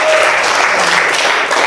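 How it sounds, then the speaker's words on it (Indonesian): Classroom applause from a group of students after presentations, a steady, dense clatter of many hands lasting under two seconds, close and fairly loud. "Tepuk tangan dulu."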